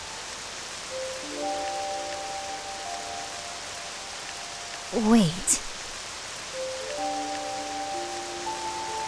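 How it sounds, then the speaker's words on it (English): Steady rain hisses in the Octopath Traveler II game world, a constant wash under soft held music tones, broken midway by a brief voice. "Rain! Storm!"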